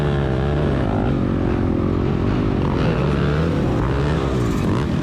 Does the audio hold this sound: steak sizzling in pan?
no